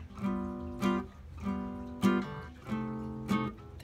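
Jazz chords strummed on an electric guitar with only three strings ringing and the rest muted, five short clear chord stabs spaced at an unhurried, even pace, close and alone.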